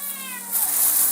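A pet cat meows indoors, one clear, drawn-out call with a rising then falling pitch, close and loud, followed by a soft breathy hiss.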